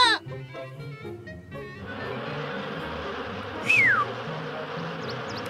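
Cartoon bees buzzing in a steady insect drone that fills the clip, with a short rising-and-falling whistle-like sound partway through and no talking.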